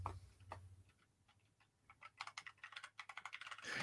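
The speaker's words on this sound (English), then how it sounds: "I feel like you're busy typing in the chat room" Rapid clicking of computer keyboard keys, sparse taps at first, then a dense, steady burst of typing toward the end, fairly close and moderately quiet over a low background hum.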